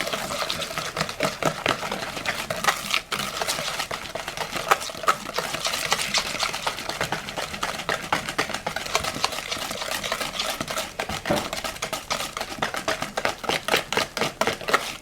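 A wire whisk beats milk cake batter in a bowl, giving a rapid, steady rhythm of close metallic ticks and liquid swishes that runs without pause for the whole stretch, with no talking.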